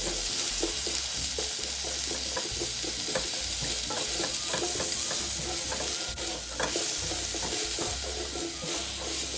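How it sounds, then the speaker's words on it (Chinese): Chicken pieces stir-fried in a wok with other ingredients: a constant loud sizzle under rapid, rhythmic scraping and tossing of a spatula against metal, close up, with no voices. "炒至鸡块转白后，此时可稍微调高炉火，再将其他备好食材加入一起拌炒"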